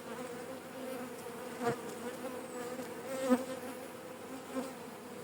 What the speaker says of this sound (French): on reprend l'enfumoir pour garder les abeilles sur le fond de la ruche pour éviter qu'elles remontent trop.